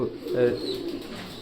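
Pigeons kept for sale give a brief, low, rolling coo that swells and fades within about a second, close by against a soft background hum.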